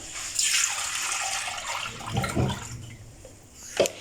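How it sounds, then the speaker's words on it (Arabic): Half a litre of milk pours into a container for a quick banana dessert, a close splashing stream that rises quickly, tapers over a few seconds and ends with a short splash. "اول حاجه غنديروا هذا الحليب هنايا"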